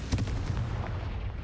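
Confringo blasting spell cast in the Hogwarts Legacy video game, a single dense fiery explosion with a thick low rumble that lingers briefly, loud and close, with no voices.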